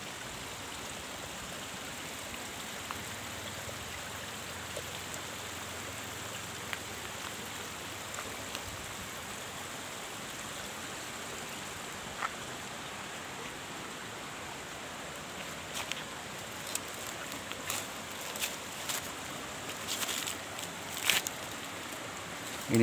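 A river stream flows over large rocks on the slope of Mount Lawu near Brubuh village, Indonesia, a steady, soft rushing wash with a few brief clicks and splashes toward the end and no talking.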